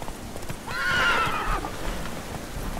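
A horse in The Witcher 3: Wild Hunt video game whinnies loudly near the middle, a rising and falling neigh over a steady background rumble; no galloping hoofbeats stand out clearly.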